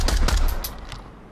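A single sharp gunshot from a MARSOC weapon in the VR game Onward, followed by a short decaying echo tail.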